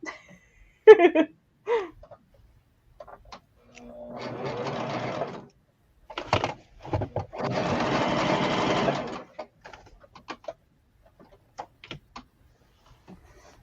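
A sewing machine runs shirring lines across a bodice in two short bursts of stitching, close and clear, surrounded by scattered clicks and handling taps in an otherwise quiet room.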